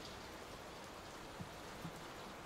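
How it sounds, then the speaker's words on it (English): Rain falls steadily in the Layers of Fear video game, with water leaking through a roof. The hiss is soft and continuous, broken by a few faint drips. "The rain or the roof is leaking."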